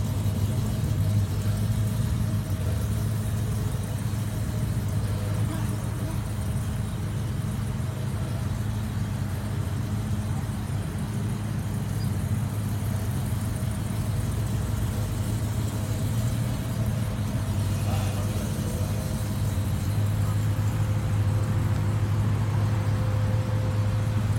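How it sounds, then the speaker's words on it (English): A truck engine fitted with a boost cam idles nearby in a loud, steady, lumpy rumble that holds throughout, with no talk. "This is one of our most favorite trucks, so we're gonna record it for you."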